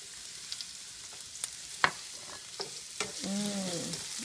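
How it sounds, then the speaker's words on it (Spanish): Onion and garlic fry in olive oil in a pan, a close steady sizzle with scattered stirring clicks and scrapes, swelling louder toward the end. "Vamos a poner cebolla."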